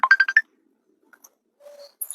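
Mobile phone ringtone: a quick run of four bright electronic beeps, close and clear, followed by a pause and a few faint higher chirps, with no talking.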